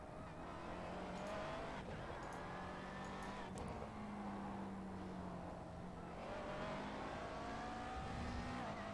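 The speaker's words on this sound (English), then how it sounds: "Great to hear the McLaren grunt." A McLaren race car engine growls through a sim-racing lap at Sebring, revving and shifting with a steady, slightly distant drone at low level, no talk.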